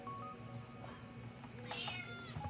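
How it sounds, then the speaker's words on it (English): A cat meows in the video game Dordogne, a few short, faint calls over a steady low hum of game ambience, with no talk. "Cat's probably, I think, trying to get in somewhere."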